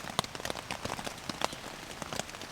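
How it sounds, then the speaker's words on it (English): Steady rain patters on a tent pitched in woodland, a dense continuous hiss of drops with scattered louder taps close by, no voices. "As you can hear, the rain is coming down."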